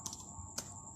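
A few sparse, quiet keystrokes on a computer keyboard, three light clicks spaced out over about a second.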